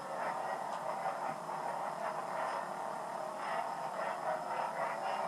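A toy lightsaber hums with a steady buzzing tone that wavers and swells as it is swung back and forth, faint and continuous with no talking.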